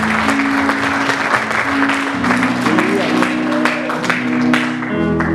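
Congregation applauding in a church during a testimony service, a dense steady clapping that fills the room with voices and tonal sounds mixed underneath.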